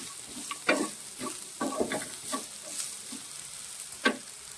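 A jackfruit thoran mixture is stirred in a pan, giving soft intermittent scrapes and gentle sizzling bursts, close and fairly quiet.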